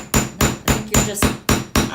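A hammer strikes jewelry wire in eight sharp, evenly spaced metallic blows, loud and close, in a steady working rhythm.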